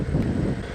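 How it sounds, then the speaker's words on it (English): Gusty wind rumbles against the microphone while riding a Xiaomi M365 electric scooter, a low, steady buffeting roar, with no voices over it. "God, it's windy today."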